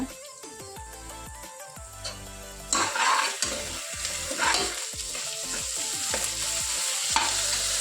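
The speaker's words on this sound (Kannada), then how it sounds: "ಚೆನ್ನಾಗಿ ಫ್ರೈ ಮಾಡಿಕೊಳ್ಳುವ ಶುಂಠಿ ಬೆಳ್ಳುಳ್ಳಿ ಪೇಸ್ಟ್ ಹಾಕಿಕೊಳ್ಳುವ" Ginger garlic paste fries in a pan with a steady loud sizzle, while a spoon stirs and scrapes the pan in repeated strokes. The stirring grows busier partway through.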